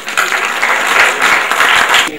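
Loud, dense applause from a theatre audience greets guests arriving on stage at a drama performance, a continuous close wash of clapping that swells and eases slightly in waves.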